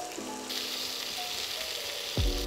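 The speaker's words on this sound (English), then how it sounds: "In the same pan, you want to add some more olive oil, and we're going to go in with our onions." Onions sauté in olive oil in a pan, a soft steady sizzle running throughout with a brief tonal sound near the start and a low thump near the end.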